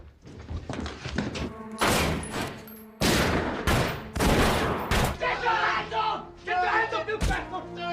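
Heavy gunfire erupts in a film battle scene set before the Peaky Blinders era, dense bursts and volleys of shots with loud cracks and echoes, mixed with shouting voices and crowd noise.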